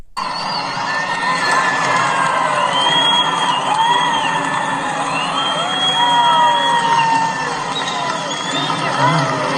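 A large crowd cheers and shouts loudly and continuously, with whoops and voices chanting over a constant roar.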